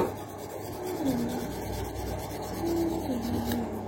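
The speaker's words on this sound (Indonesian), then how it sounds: "Ya, kita amplas terus." Steady back-and-forth rubbing of sandpaper on the small metal contact of an electric fan's speed switch, close and moderately loud, with no talking.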